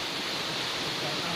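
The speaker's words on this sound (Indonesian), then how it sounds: "nyobain dinginnya air terjun parang hijau" Waterfall at Parang Ijo in Karanganyar, a steady loud broadband rush of falling water filling the whole short stretch without a break.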